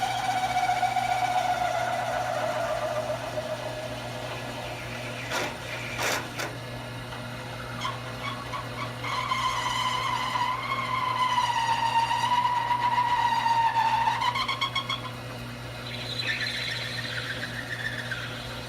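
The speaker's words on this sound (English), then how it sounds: "Now we'll be drilling the hole." A drill boring a hole in a wooden butter dispenser, a whining tone that rises and falls as the bit bites under steady pressure, close and continuous with brief knocks partway through.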